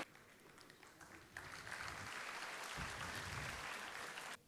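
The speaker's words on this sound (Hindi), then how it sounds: "तालियों के साथ एक बार स्वागत" Steady applause from a crowd, clapping swelling after the first second and sustaining evenly before cutting off.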